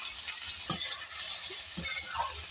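Onions with bay leaves fry in hot oil for chicken curry, a steady close sizzle with a few scraping stirs of a spoon in the pan and no speech.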